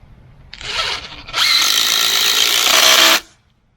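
A power drill with a masonry bit bores holes for Tapcon screws while a board is fixed under a driveway void. A short burst is followed by a longer, steady, loud whine close by, then it stops.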